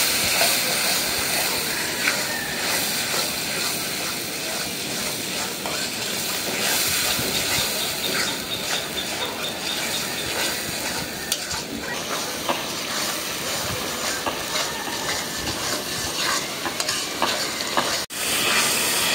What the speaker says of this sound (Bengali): এখন দিয়ে দিচ্ছি আদা রসুন বাটা। এখন ভালো করে কষিয়ে নেব।